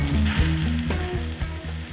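A charcoal fire burns for a South African braai barbecue with close, steady crackling and sizzling. Sharp pops and snaps rise above it without a break.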